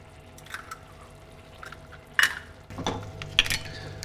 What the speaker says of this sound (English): I'm going to crack 8 eggs into my stew